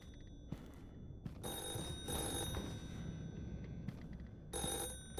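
A telephone rings repeatedly inside a horror video game, with bursts of bright, bell-like trilling that start and stop in a steady pattern over low background rumble.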